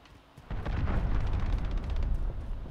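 A cruise missile strike in Call of Duty: Modern Warfare 2 hits with a sudden loud, deep blast, followed by a sustained rumbling roar of continued explosions and debris for a couple of seconds.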